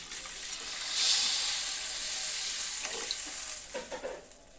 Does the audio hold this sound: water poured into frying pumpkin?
yes